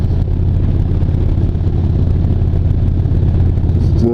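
A motorcycle engine drones steadily at cruising speed, a constant low rumble with wind noise and no talking.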